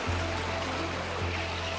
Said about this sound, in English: So our little river stream from the culvert has gotten huge.